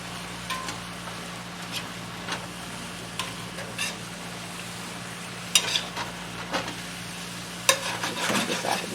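Chinese greens and chicken simmering and thickening in a pan, a soft steady sizzle with scattered stirring clicks and scrapes of a utensil, close and fairly quiet, with no voices.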